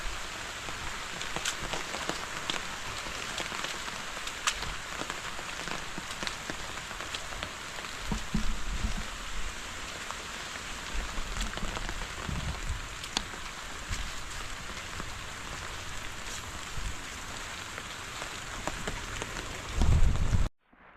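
Steady rain pours down on a surface, a dense continuous patter with scattered louder drops, then cuts off abruptly at the end.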